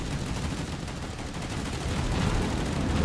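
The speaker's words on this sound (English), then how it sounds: "So she's got, you know, her 5-inch guns and her 20mm just blasting away" A Sims-class destroyer's 5-inch and 20mm guns fire in a dense, continuous barrage of overlapping blasts in the naval combat game Task Force Admiral, growing slightly louder toward the end.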